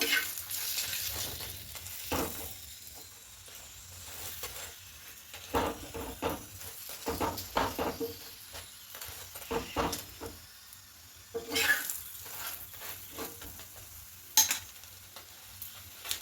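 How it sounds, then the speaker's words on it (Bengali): A pea-stuffed paratha fries in a little oil in a pan, giving a quiet, steady sizzle broken by recurring scraping and stirring bursts from a spatula as it is turned and pressed. "একটু কড়া করে ভেজে নেব"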